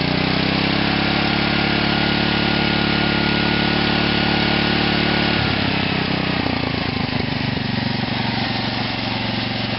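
A small OFNA nitro engine with a carburetor, on an RC car, runs steadily and loud close up, then revs up about halfway through, its buzzing pitch shifting and wavering under continuous engine noise with no talk.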